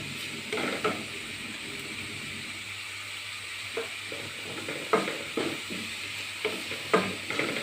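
Turmeric being stirred into a jackfruit seed, moringa leaf and egg thoran in a pan: a low steady sizzle with a few sharp scraping strokes of the spoon scattered through, close and moderately quiet, with no talk.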